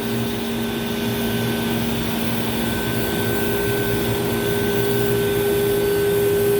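A banner heat welder runs with its hot-air nozzle lowered, welding an 8 by 12 foot banner at low temperature and slow speed: a loud, unbroken blower hum with steady tonal whines throughout.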